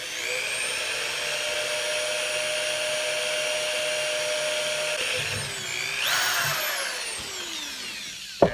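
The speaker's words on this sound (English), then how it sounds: "Let's just fucking drill another hole." A power drill bores a hole for an AEM wideband sensor on a cammed 5.3 Sierra, with a steady high whine that dips and then spins up again before winding down, ending with a short knock.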